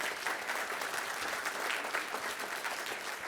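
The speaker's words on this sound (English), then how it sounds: "can we just keep the applause going for each of those 10 contributors, please?" Applause rolls through a conference audience after a keynote talk, an even, sustained patter of many hands heard from some distance and fairly quiet, with no voices over it.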